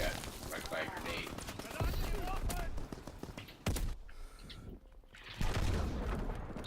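M1 Garand rifle fire in the World War II shooter game Call of Duty WW2, loud sharp shots cracking at irregular intervals amid battlefield noise, with a voice talking over the top.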